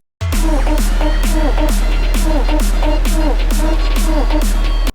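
Big room techno track with sub bass risers, loud and steady, driven by a pounding regular kick under a deep sustained bass and repeating synth figures, with no voice over it.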